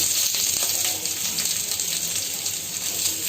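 Chopped onions frying in a little oil in a pan for a Telangana-style korameenu fish curry, a soft steady sizzle with faint crackles, quiet and continuous.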